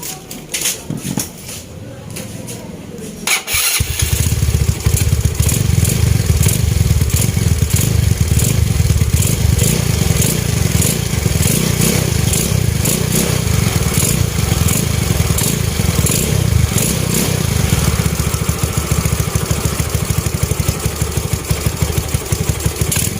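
A motorcycle fitted with a Daeng Sai4 power pipe exhaust and 17-inch rims starts after a few quiet seconds. It then runs loud and close in a sustained, rumbling idle with a raspy exhaust note for the rest of the time.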